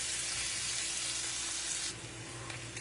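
Sausage and peppers frying in a pan: a bright, steady sizzle close by, fairly quiet and unbroken, easing slightly in level partway through, with no voice.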